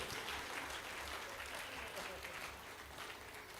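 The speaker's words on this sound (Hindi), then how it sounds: "तालियां फिर कम बजा रहे हैं आप," Applause from the audience at a Hindi satirical comedy performance forms a dense, hissing wash of many hands clapping at once, fairly faint and steady, with a low murmur beneath it.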